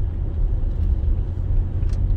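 A car driving along a road in the evening, heard from inside: steady low engine and tyre rumble, close and even, no talking.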